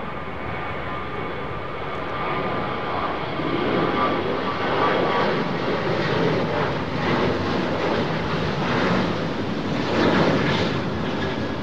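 Schiphol-bound Boeing 737 jet at London Heathrow Airport, a continuous broad engine roar that builds slightly and stays strong throughout, with wind buffeting the microphone and no talk.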